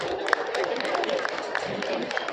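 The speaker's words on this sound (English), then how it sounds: "Appreciate them with a round of applause." Round of applause for well-dressed students at a school assembly, steady dense clapping from a crowd sustained throughout, moderately loud with faint background chatter.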